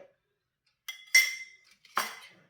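A spoon clinks against a bowl while unsweetened cocoa powder is stirred into eggless chocolate cake batter, a few short close scraping clinks with gaps between them.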